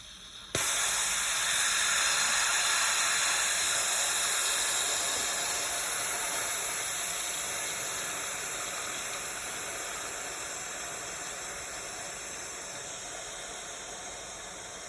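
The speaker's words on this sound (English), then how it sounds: "Right now I'm doing the quick release." Instant Pot pressure cooker doing a quick release after cooking broccoli cauliflower cheddar soup, a sudden loud steam hiss that starts abruptly and continues steadily, slowly fading over about fifteen seconds.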